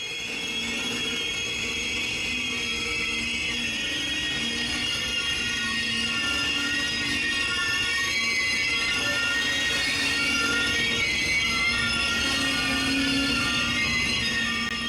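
Amtrak 3, a passenger train on the BNSF San Bernardino subdivision, rolls in with a steady rumble of wheels on rail and faint high metallic squeal, holding loud and continuous without letting up.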